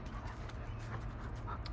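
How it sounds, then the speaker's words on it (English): A dog pants rapidly and steadily after a training session, soft rhythmic breaths close by over faint outdoor background noise. "And you can tell by like the panting."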